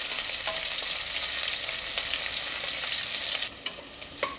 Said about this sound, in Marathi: साधारण 1 मिनिट मी कांदा परतून घेणार आहे